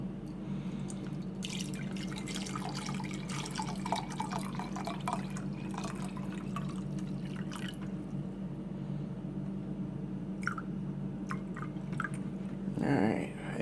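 White vinegar poured gently into a jar holding an egg, a soft trickling splash and drip running under a continuous low hum, with faint clinks near the end.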